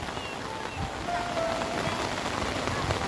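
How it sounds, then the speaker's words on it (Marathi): Heavy rain pours steadily on surfaces during an outing near Khopoli, a broad continuous wash of drops close around, with faint voices in the background. "पाऊस खूप पडतो आहे"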